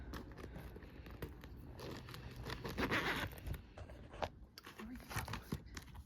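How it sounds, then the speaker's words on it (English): A pencil pouch is unzipped one-handed, a quiet rasping zip run with crinkling and rustling of its contents close by. "Can I unzip this one-handed?"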